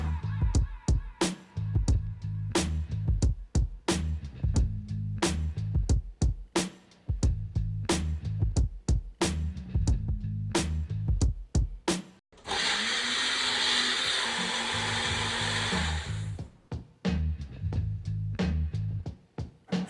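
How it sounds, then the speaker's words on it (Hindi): A knife chops tomatoes on a cutting board in quick, sharp, close strikes, broken up midway by a few seconds of loud steady whirring noise before the chopping resumes; no one speaks. "तो नेक्स्ट हम काटते हैं अपने टमाटर।"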